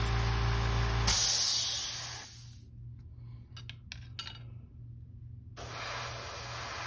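A spray gun lays a light coat of color shift paint in loud, steady hissing bursts, stopping for a few seconds of quieter clicks and handling before the spray resumes.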